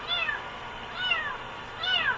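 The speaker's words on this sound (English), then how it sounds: "There's a cat. kitten or something in my car." A kitten trapped inside a car's engine bay meows three times, thin high-pitched cries spaced evenly apart, close by and fairly clear against a quiet background.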